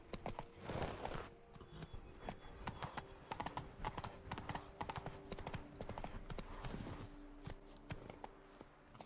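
Rapid, loud clip-clop of the horse Roach's hooves galloping in The Witcher video game, an uneven drumming rhythm that runs the whole time with faint game ambience behind it.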